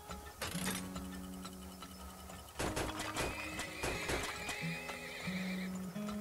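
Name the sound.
horses in the video game Turmoil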